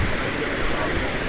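Amarad waterfall rushes in a dense, steady roar of falling water, loud and close, with no break over the short stretch.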